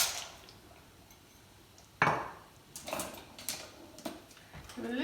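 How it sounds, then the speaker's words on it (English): Dry macaroni dropped into a kitchen pot, one sharp rattling clatter followed by a few lighter clinks and taps, close and fairly quiet. "So I'm just popping that in there now."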